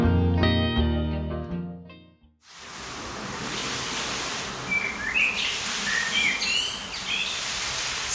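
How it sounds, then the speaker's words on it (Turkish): A bird sings in the early morning in Bucharest, its bright chirps and trills ringing out over steady outdoor ambient hiss after a short burst of other sound at the start. "Şunun ötüşüne bak ya."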